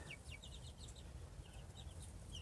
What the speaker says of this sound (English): The baby birdies are learning to climb.